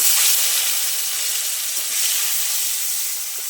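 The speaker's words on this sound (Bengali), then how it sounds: "ওতে আমি এবার টমেটো দিয়ে দেবো।" Tomato goes into hot oil left over from frying vegetables, and a dense, steady sizzle and hiss fills the clip at close range, with no voices.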